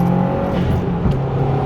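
A built 400-horsepower Subaru WRX STI accelerates hard in fifth gear, its engine giving a steady, droning roar with a sustained low tone under a rushing wind and road noise, heard from inside the car.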